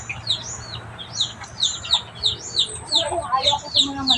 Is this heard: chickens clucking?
yes